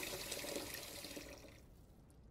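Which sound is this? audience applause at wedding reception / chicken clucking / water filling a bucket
water filling a bucket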